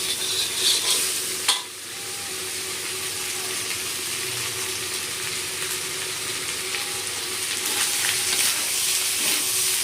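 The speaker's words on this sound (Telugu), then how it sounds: "చికెన్ ఫ్రై అయిపోతుంది ఇదిగో" Chicken fries in a pan with a constant close hiss and sizzle, a sharp clack of the utensil early on, and the frying swelling a little louder toward the end.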